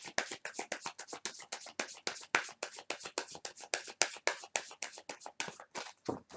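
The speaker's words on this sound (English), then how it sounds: "I want to put another good shuffle on this one more time." A deck of playing cards is shuffled rapidly by hand, giving a dense run of crisp, evenly spaced card flicks and riffles, close and fairly quiet, with no voice over it.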